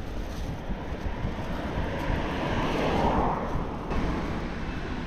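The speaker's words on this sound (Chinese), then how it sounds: "又开始刮大风了" Strong wind blows across open ground near an airport in Inner Mongolia during a bicycle journey, a loud, roaring rush that swells and buffets the microphone continuously, with no voices.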